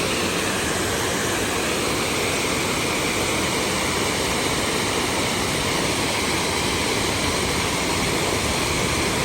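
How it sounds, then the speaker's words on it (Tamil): Lake District waterfall near Wray Castle, a constant loud broadband rush of falling water heard close up, unbroken for the whole stretch with no voices. "ஸோ இதுதான் அந்த வாட்டர் ஃபால்ஸ், செம்மையாக இருக்குது பாருங்கள்."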